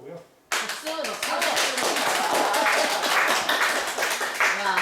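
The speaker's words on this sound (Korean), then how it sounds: "박수" An audience at a Buddhist basic-education lecture bursts into steady applause, many hands clapping densely and loudly after a brief quiet moment, with some voices mixed in.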